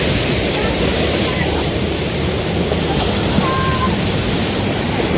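Strong ocean waves crash and churn in a steady, loud roar of surf that continues without pause, with no clear break between swells.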